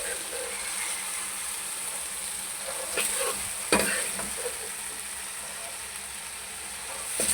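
Ingredients frying in a pan while Singaporean rice is cooked, giving a steady, quiet sizzle with a couple of brief clinks of stirring and no talking over it.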